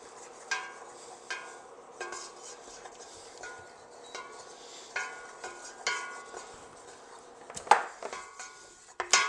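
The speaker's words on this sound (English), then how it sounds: "Now you want to stir that in until the oil and the fat is mixed." A spoon stirring oil and fat together for a gumbo roux in a pot: a steady run of soft scraping strokes at a slow, regular rhythm, close and fairly quiet, with a couple of sharper knocks near the end.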